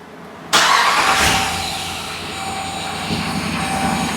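A 2021 Dodge Durango with a 5.7 Hemi V8 cranks on a newly installed starter: a loud, abrupt start into a sustained, whirring drone that stays close and continuous.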